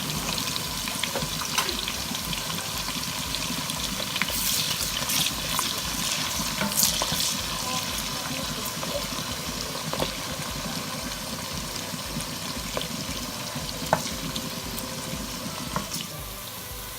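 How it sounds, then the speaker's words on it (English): Onions frying in a pot for Ghanaian chicken stew make a steady, fairly loud broadband sizzle, with faint scraping of stirring and a few sharp clinks along the way. "Onions are turning brown now"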